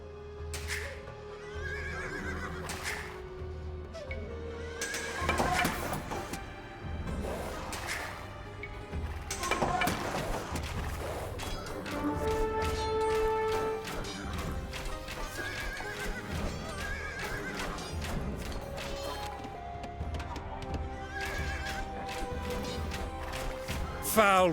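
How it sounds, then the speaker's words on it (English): Scythian horses in the video game Age of Empires II whinny and neigh again and again, with clip-clopping hoofbeats running between the calls at moderate volume. "Foul creatures, those Scythian horses, vicious as Cerberus and just as ugly."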